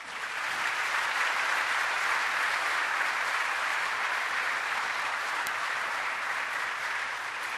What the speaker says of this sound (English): let's give that great man a round of applause.